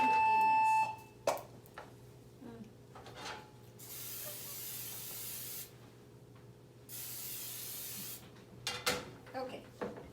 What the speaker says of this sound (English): We need cooking spray in this.